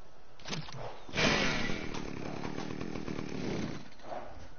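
A chainsaw in the video game Ark Survival, revving up with a sharp onset and then holding a buzzing, rattling engine drone for a few seconds before cutting off.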